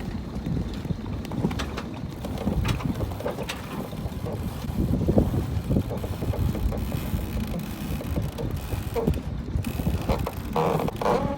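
Light wind buffets the microphone aboard a sailing catamaran, a steady low rumble with water sloshing against the hulls, continuous and fairly close.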